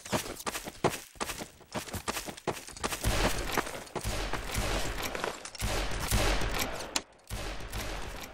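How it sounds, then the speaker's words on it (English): Gatling guns fire in Garry's Mod during an American Civil War battle, with dense continuous rattling bursts that run throughout, loud and sustained, alongside scattered other gunfire. "Gatlings are shooting."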